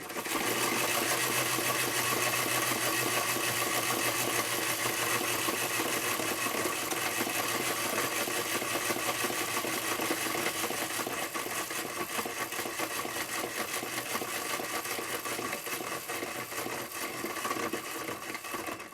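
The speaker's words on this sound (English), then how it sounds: "The engine doesn't run for very long" A vintage Bing clockwork toy train engine runs on its wound spring, giving a continuous dense whirring and rapid ticking of gears, steady and close for the whole stretch before easing slightly near the end.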